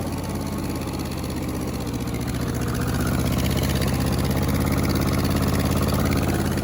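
Worn-out Ford 8N tractor engine running hard during burnouts, a steady, loud, low chugging drone with rapid firing pulses that holds throughout and rises slightly in the second half.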